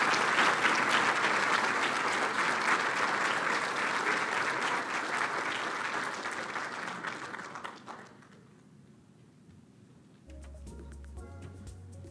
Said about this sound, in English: Please give a round of applause to Ian Deal and Nicole Miller for their work